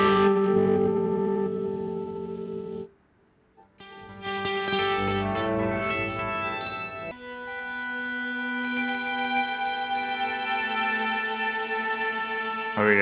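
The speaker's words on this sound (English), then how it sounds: "add a plugin called Portal, which will give me like some granular, weird, glitchy stuff" Guitar processed through the Portal granular plugin, smeared by a glitchy effect, shimmering and distorted with echoing textures, sustained and fairly loud with a brief dropout early on.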